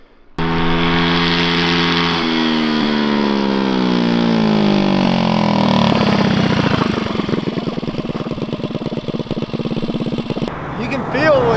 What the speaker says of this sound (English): You can feel when it really starts to rev.